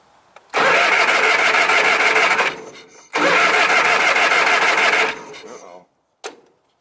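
A 20hp Kohler Magnum engine on a 1980s Simplicity Sunstar tractor cranks and sputters loudly in two long bursts of about two seconds each, then a brief final cough, alone and close.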